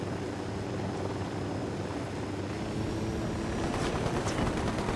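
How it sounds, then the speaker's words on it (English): A helicopter approaches in the video game Ghost Recon: Wildlands, a loud, broad rotor roar that grows slightly denser toward the end, with faint rhythmic thumping and no voices over it. "there's a Unidad helicopter behind us."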